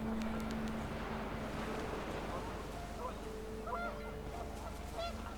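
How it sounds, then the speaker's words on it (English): Panicked geese honking in the video game What Remains of Edith Finch, with gusting wind in the background; the honks come and go as the birds appear and quickly leave, heard under a speaking voice. "The wind picked up and panicked geese appeared and quickly went."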